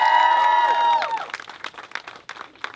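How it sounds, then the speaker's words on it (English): A toned voice or sound fades out, then a crowd at an outdoor DACA rally in a Los Angeles park breaks into scattered, uneven clapping of moderate loudness. "let's give that a round of applause"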